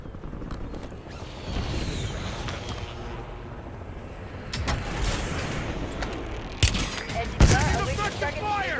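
Gunfire from the Warzone video game rattles in repeated bursts and single cracks over a busy bed of game noise, growing louder toward the end alongside mechanical clatter and brief game voice callouts.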